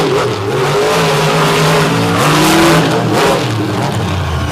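Drag race cars roar down the strip at Monsters on the Beach, their engines loud and sustained as they accelerate, with engine pitch rising and shifting throughout.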